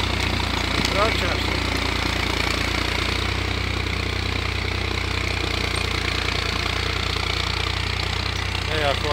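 An old tractor is running while plowing a garden plot in Visegrad, its engine chugging in a steady, loud, low rumble throughout, with some talking over it.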